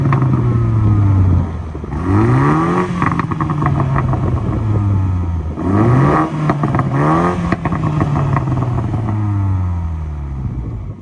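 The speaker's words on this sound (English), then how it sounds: "Traction into dynamic, sport mode, and give it a little bit of a rev." BMW M235i Gran Coupe engine in sport mode with dynamic traction setting, revving loudly twice in quick rising sweeps that fall back to a steady idle, close and alone with no talk.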